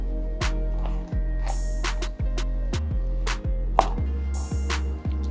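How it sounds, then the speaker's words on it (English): Knife chopping shrimp in half on a cutting board, about a dozen crisp, evenly spaced cuts up close, with a steady low hum behind them. "Let's cut the shrimp in half."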